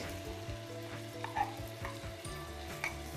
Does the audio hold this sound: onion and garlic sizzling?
yes